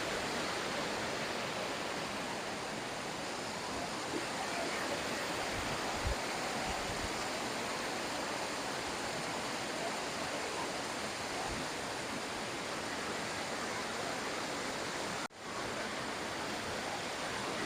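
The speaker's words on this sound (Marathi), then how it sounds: "तर हा सुंदर धबधबा" Steady, broadband roar of a waterfall in a forest between tall mountains, continuous and fairly close, with no voices and only a brief dropout near the end.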